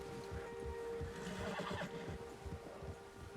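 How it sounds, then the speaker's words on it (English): A horse in the video game Red Dead Redemption II gives a long, loud whinny near the listener, with soft clip-clop hoofbeats underneath. "Oh, I can calm my horse"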